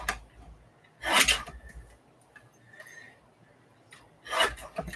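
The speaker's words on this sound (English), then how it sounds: "So we're going to have to fussy cut that." Paper is fussy cut by hand for a journal: two loud rasping bursts of scissors or trimming up close, with quieter rustles and small clicks between them.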